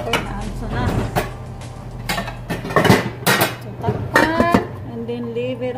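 A metal lid goes onto a pot of chicken curry on the stove, with a series of clanks and clinks of cookware and utensils handled close by while a voice talks in between.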